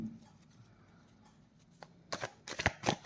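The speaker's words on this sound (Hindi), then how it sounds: "मैं कार्ड शफल कर लूँ।" Tarot cards are shuffled by hand in a few quick riffling bursts near the end, after a quiet start, close and crisp with no talking.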